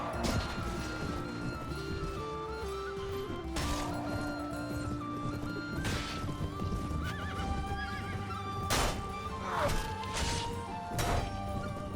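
Horses neighing and hooves clip-clopping in a Mount & Blade: Warband battle with lances, amid crashes and thuds from the melee, continuous and busy throughout.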